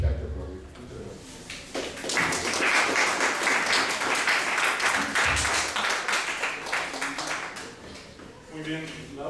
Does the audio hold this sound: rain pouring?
no